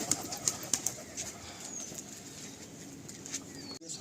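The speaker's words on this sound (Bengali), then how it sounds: "পায়রাগুলো উড়িয়ে আমরা সব করাচ্ছি, আপনারা দেখুন" Andhra pigeons at a loft in Karnataka, heard as faint intermittent flutters and wing claps over a quiet hiss, with a few soft bird calls in the background.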